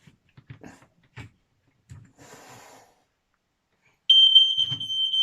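A hardwired home smoke alarm lets out a loud, piercing electronic tone that starts abruptly and holds steady, following a few scattered quiet knocks and a brief rustle.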